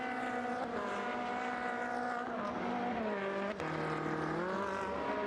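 Ferrari Challenge race cars compete at Mugello, engines droning at a distance with rising and falling pitch as they accelerate and shift, a continuous moderate roar without talk.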